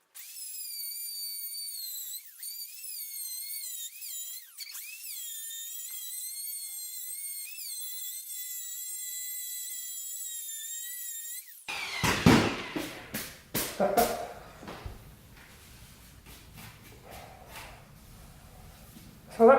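A router spins up to a high, steady whine with a shifting pitch while cutting a T-moulding groove in MDF edging for an Atari cabaret cabinet, then breaks off into scattered knocks, bumps and clatter.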